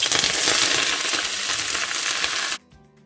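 Garlic sizzles in sesame oil with mustard seeds, fennel seeds, onion and curry leaves, a loud, dense crackling hiss that cuts off abruptly near the end.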